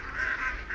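Geese or ducks honk and call in a rural yard as ducks and chickens are driven along during bad weather, a steady nasal honking held through most of the short moment, fairly close.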